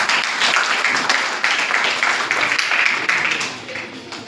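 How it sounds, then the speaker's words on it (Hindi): Steady applause from an audience at a human rights seminar attended by a district judge and jail officials, dense clapping sustained throughout and tapering slightly at the end, with a voice faintly underneath. "तालियों के साथ संघ का अभिनंदन स्वीकार करें"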